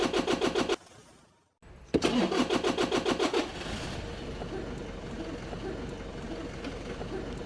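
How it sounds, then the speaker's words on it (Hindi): A car's starter motor cranks the engine in a fast rhythmic chug, stops briefly, then cranks again until the engine catches and settles into a steady idle, close and clear. "लेकिन अब सिर्फ हम एक की से या फिर एक स्विच को दबाकर इंजन को स्टार्ट करते हैं।"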